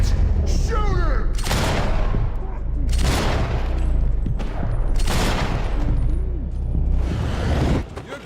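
Bursts of gunfire from the video game Max Payne 3 ring out in loud repeated volleys over a deep rumbling game score, with voices shouting in between.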